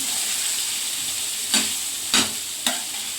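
Prawns fry in a pan with a continuous close sizzle and hiss, broken by three brief louder scraping stirs spaced about half a second apart.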